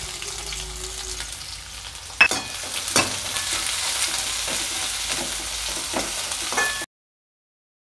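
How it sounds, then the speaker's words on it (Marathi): Chopped onion sautéing in hot oil in a kadai, a steady close sizzle with occasional sharp stirring scrapes and clatters, no voices. "त्यामध्ये आता हा चिरलेला कांदा चांगला परतून घ्यायचा।"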